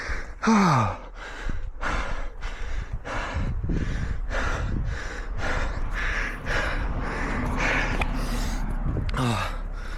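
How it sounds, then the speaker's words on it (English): Heavy, rapid panting breaths repeat in a steady rhythm, close to the microphone, with a gasp at the start, from a runner in the second mile of marathon training. "listen to the breathing"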